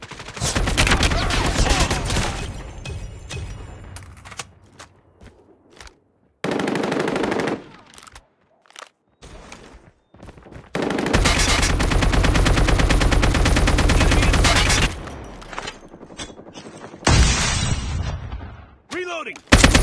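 Bursts of AK-47 automatic fire in a combat video game, loud and close, with long sustained strings of shots broken by brief pauses and quieter stretches.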